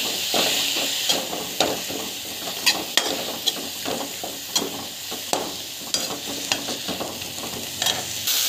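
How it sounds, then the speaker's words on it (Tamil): Ingredients sauté in a pan with a loud continuous sizzle, punctuated by frequent rhythmic spatula scrapes and clicks throughout, close up and without talk. "நல்லா வதக்கிட்டு நல்லா வதக்கிக்கணும்"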